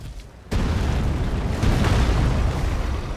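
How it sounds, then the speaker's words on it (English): A fire pot bursts in Elden Ring with a sudden loud boom, followed by a sustained roaring, rumbling blaze that stays heavy and dense to the end. "And then throw a fire pot, and back away."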